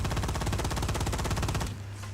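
Rapid automatic weapon fire in the video game Firefall, a steady rattling stream of shots for nearly two seconds before cutting off, leaving a low hum.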